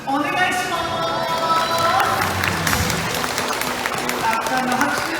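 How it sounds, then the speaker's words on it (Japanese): An audience at an aquarium show claps in a sustained wash of applause while an announcer's amplified voice carries over it, fairly loud and spread out across the space. "たくさんの拍手ありがとうございます。"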